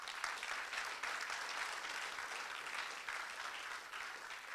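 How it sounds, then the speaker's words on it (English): Faint, distant applause from an audience at the Sahara Sparks 2017 event, honoring the Finnish and Swiss embassies; even, sustained clapping with no voices on top. "I will highly appreciate if you clap so hard for Finnish Embassy and Swiss Embassy"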